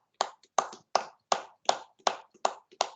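Hand clapping during a warm-up exercise at a faculty development session: eight sharp, evenly spaced claps at a slow, steady beat, close and distinct against silence.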